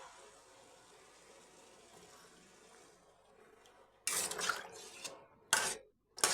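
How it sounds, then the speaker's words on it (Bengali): Rinse water poured from a masala-coated bowl into simmering cauliflower-potato fish curry, arriving in two or three short loud splashy gushes after a stretch of quiet background. "এবার আমি ওই পাত্রটা ধুয়ে জলটা দিয়ে দিচ্ছি"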